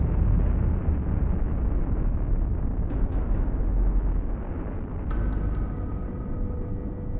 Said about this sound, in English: When the asteroid struck Earth, it unleashed energy equivalent to 1 million nuclear bombs.